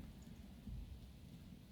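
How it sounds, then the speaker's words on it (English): Storm ambience from the video game Book of Hours: a low, steady wash of rain with a soft rumble of thunder swelling briefly midway, faint and continuous throughout. "I like the storm noises."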